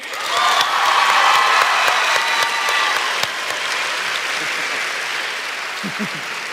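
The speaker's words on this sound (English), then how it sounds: "Clap for them, dang it!" Audience applause filling a room after two people are introduced on stage, dense steady clapping that gradually thins and softens, with a couple of low thumps near the end.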